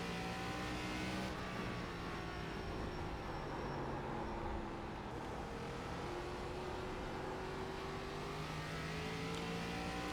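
An ARCA race car at Thompson in the iRacing sim drones continuously at high revs, the engine pitch sweeping up and down through gear changes and corners, loud and steady with no talk.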